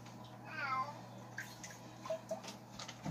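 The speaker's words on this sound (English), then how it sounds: "The meowing you hear in the background is Fubar, the desert lynx." A desert lynx cat gives a short, faint meow in the background of a quiet room, with soft water-like noise around it.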